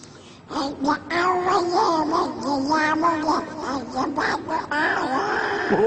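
A man in a mimicry performance mimics a cat, stretching out wavering meows into a continuous sung melody, loud and close, with no pauses.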